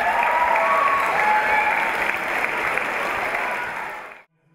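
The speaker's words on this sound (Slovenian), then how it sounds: "Na začetku prireditve so šolarji z navijanjem priklicali nogometaše v dvorano." Schoolchildren in a sports hall cheer and clap loudly as footballers enter, a dense, sustained burst of applause and crowd noise. It holds steady for about four seconds, then cuts off abruptly.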